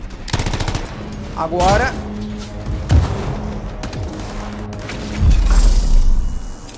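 Weapons fire in the video game Anthem as rapid automatic bursts and heavy booms, loud and close, with intermittent impacts and someone speaking briefly over the shooting.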